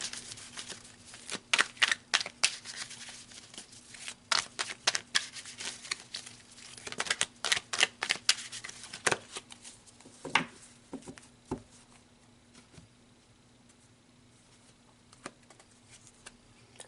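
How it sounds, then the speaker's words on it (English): Tarot cards are shuffled with crisp, irregular snapping clicks that come in quick bursts, then thin out to a few scattered taps near the end. "So let's pull some tarot cards to clarify these dice a bit further."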